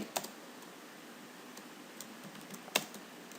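A few sparse, faint keystrokes on a computer keyboard as the word "hi" is entered in a Python 3 coding session, two sharper clicks near the start and end with quieter taps between, over a low steady hiss.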